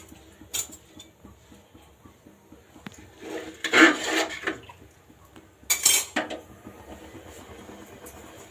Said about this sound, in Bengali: এখন এগুলো মেজে ধুয়ে পরিষ্কার করে নেব।